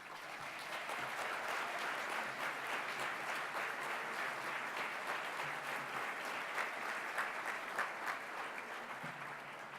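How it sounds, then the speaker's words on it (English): Sustained applause from a nursing awards ceremony audience as executives stand, dense steady clapping filling the room for the full stretch at even loudness with no talk over it. "let us give you a big round of applause."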